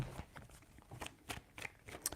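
Tarot cards are shuffled by hand, a quiet series of quick riffling, papery flicks in irregular bursts, close and alone.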